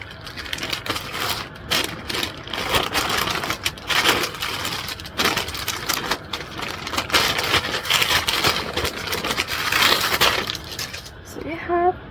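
Paper and plastic wrapping crackle and tear around a newly arrived book with sprayed edges, a steady rustle running through most of the stretch, with a brief voice near the end.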